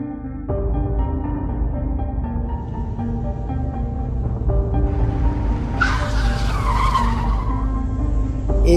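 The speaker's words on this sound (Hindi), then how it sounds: "तभी बाहर गाड़ी का एक आवाज सुनाई दी।" A car arrives outside with its tires skidding, the engine droning steadily before a sharp, loud squeal of rubber bursts out near the end.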